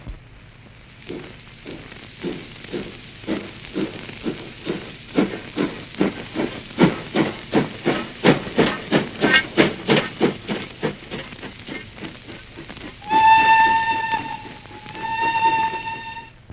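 A steam train chuffs in a steady, quickening rhythm of loud hissing puffs, then gives two long whistle blasts near the end.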